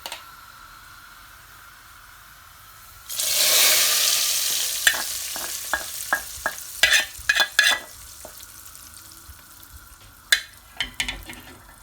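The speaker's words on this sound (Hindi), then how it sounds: "अब हम इस तड़का जो हमने बघार लगाना है वो दाल में हम शामिल कर देंगे" A sudden loud sizzle as a hot oil tempering is poured into cooked brown lentils, hissing strongly then fading, followed by a series of sharp spoon clinks and stirring sounds.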